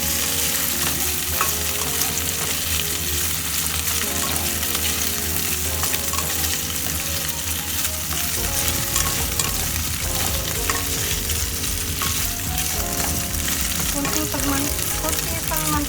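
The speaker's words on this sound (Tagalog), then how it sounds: "Halo-haloyin na lang natin siya para pantay ang kanyang" Kangkong and pork sizzle and fry in oil in a pan while being stirred, with constant crackling and intermittent scraping of the utensil across the pan, close and continuous.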